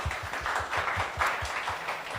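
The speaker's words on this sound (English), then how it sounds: "So please applause" Audience at a Plurality Tokyo event applauds after thanks to sponsors, a moderate, even patter of many hands clapping at a steady level.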